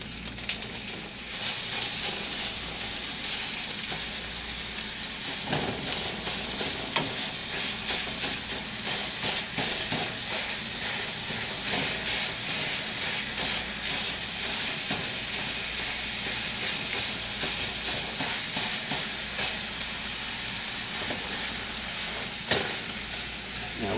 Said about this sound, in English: it and break it up into small pieces